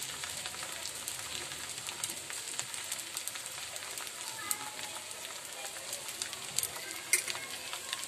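Thin rice-flour ghavan pancake sizzling in a hot pan as it is flipped, a steady close hiss with small scraping ticks and a few sharper clinks.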